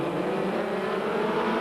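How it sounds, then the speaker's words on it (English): Formula Forward race cars on a damp Brands Hatch track at a 1989 race start, engines revving together in a dense, steady drone heard from a distance, with no voices. "So the engine revs are rising, first gear is engaged"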